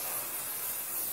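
Hairspray misted onto a dancer's hair in a short, close, steady hiss, alone with no voices.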